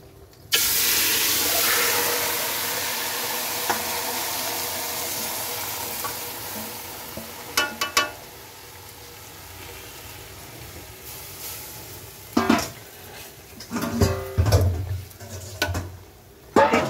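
Chicken meat for Afghani chicken biryani drops into a hot pot with a loud, sustained sizzle that slowly fades, followed later by scraping and clattering stirring strokes in short bursts.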